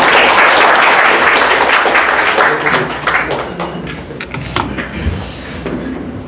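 A conference audience applauds a guest speaker, team leader Yoon Seok-chan, at a 2012 talk on open APIs; dense, steady clapping from many hands fills the room, thinning toward the end with a few scattered claps.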